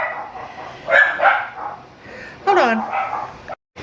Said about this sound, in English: My little puppies wanted to bark